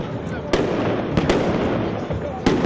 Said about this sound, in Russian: И впервые в небо были выпущены залпы фейерверка.